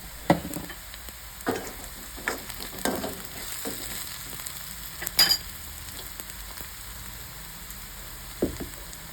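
Vegetable pieces frying in a pan with turmeric, being stirred for vegetarian rolls: a low steady sizzle with scattered scrapes and clinks of the spoon, moderately quiet and alone.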